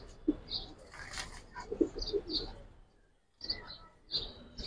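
Scattered pigeon calls and soft cooing with a few brief fluttering bursts, mixed with background voices and a short quiet gap midway, at a pigeon loft.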